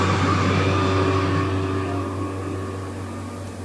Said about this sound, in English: The vacuum pump is over here.